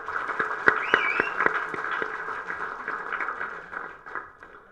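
Audience at a Tamil movie audio launch applauding, a crowd of claps with a few sharp, prominent hand strikes, moderately distant, tapering off toward the end.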